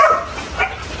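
A Malinois Belgian shepherd at a breeding kennel gives a couple of short, close barks within about a second.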